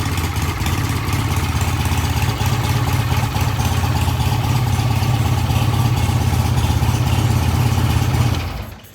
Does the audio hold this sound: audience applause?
no